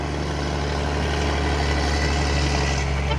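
An old trailer truck hauling ground piles climbs a hill, its engine and exhaust giving a steady, loud, continuous droning rumble with no talking.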